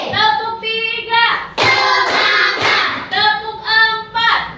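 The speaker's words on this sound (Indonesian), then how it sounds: "Untuk lebih semangat lagi, kita lakukan tepuk fokus sama-sama" A classroom group chants together in a teacher-led focus-clap routine, with a few loud clap bursts breaking into the sustained group voices.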